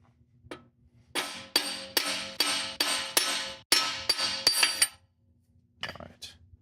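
A pinion bearing cup is driven into a Jeep Wrangler JL axle housing with a large socket. About a dozen sharp metallic hammer blows land in quick runs, close and loud, followed by a couple of lighter taps after a pause.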